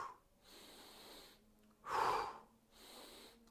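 A man breathes audibly during an arm exercise, drawing slow close breaths in and letting out one forceful, louder exhale in the middle, with a few quieter breaths around it and no talking.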